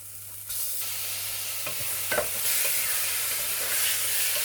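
Chicken pieces on the bone sauté in a pan for chicken salna. A loud, bright sizzle jumps up as they go in, then holds steady with a few stirring scrapes and knocks, close and without speech.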